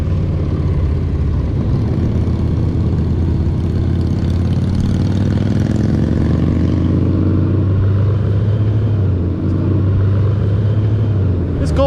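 A Honda Goldwing motorcycle cruises along a winding West Virginia mountain road, its engine droning steadily with wind rush and a rising, falling pitch as it accelerates, while the rider talks over it.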